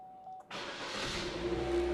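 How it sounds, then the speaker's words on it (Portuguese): A used car's engine, started with the key, catches abruptly and easily and settles into a steady idle rumble, close by and continuous after a brief quiet moment. "Você vê que o motor pegou com uma certa facilidade"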